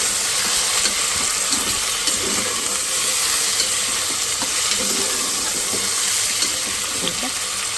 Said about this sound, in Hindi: अब मैं इसके अंदर डालूँगी गोश्त। गोश्त के साथ में इसको थोड़ा सा